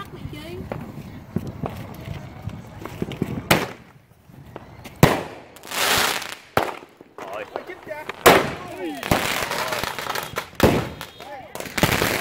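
Illegal fireworks set off outdoors on July 4th, loud irregular bangs and crackling bursts scattered among footsteps and movement, with people talking excitedly throughout.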